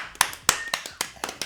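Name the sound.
applause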